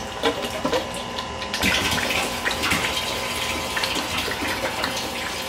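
Water rushes steadily under pressure from a mobile car-detailing tank and pump setup, a loud, continuous gushing hiss close by with no talking.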